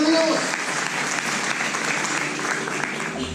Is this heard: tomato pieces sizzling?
no